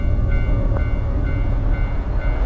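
Subway train rumbling past in a Korean-streamed video game, a steady loud low roar of rail noise with faint wheel clatter, continuous for the whole stretch with no voices.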